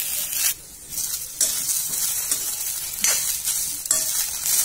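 Okra (bhindi) dry-roasting in a pan, with steady broadband sizzle and hiss and repeated scraping stirs that come in louder bursts. A brief lull falls near the half-second mark. Nobody speaks.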